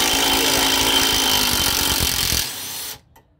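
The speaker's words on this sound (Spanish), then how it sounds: "se le pone una 18 y un dadito que se agarre de la puntita del tornillo" Power tool driving an 18 socket to loosen a bolt on the front shock absorber of a 2001 Ford Windstar: a loud, continuous buzzing whir that eases off and then cuts out abruptly near the end.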